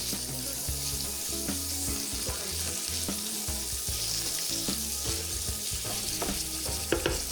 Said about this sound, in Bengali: এরপর কিউব করে কাটা গরুর মাংস হাফ কাপ দিয়ে একটু ভেজে নেব